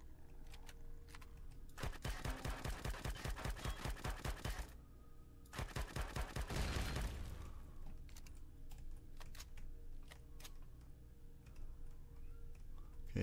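Rapid automatic weapon fire in the sci-fi survival game Empyrion: two sustained bursts of fast, evenly spaced shots, the second shorter, over a quiet background hum.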